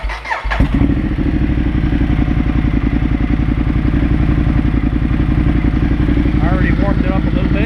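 Ducati Multistrada 1200S with a Termignoni exhaust firing up after a brief starter crank, then settling into a steady, loud, throbbing idle with a few rising revs near the end.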